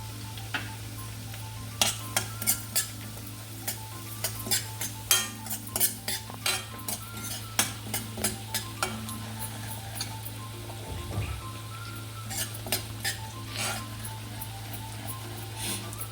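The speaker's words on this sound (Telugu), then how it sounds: "ఇప్పుడు ఇదే గీలో ఇది రవ్వ ఫ్రై చేసుకుందాం" Semolina frying in ghee and being stirred in a pan, with repeated scraping clicks of a spoon against the metal over a steady low sizzle, close and fairly quiet, with no talking.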